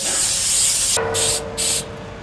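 Aerosol cooking oil spray hisses steadily, then comes in two short bursts, close and loud, coating the inside of a Pit Barrel Cooker.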